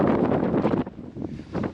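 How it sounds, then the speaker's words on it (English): Strong gusts of wind on a Lake District fell summit, Sergeant's Crag, buffet the microphone with a heavy, roaring rumble that surges and eases in uneven bursts. "Very windy"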